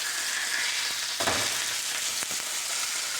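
A burger patty sizzles steadily on a hot cooking surface, a continuous bright hiss with short scraping bursts as it is flipped, heard close and alone without talking.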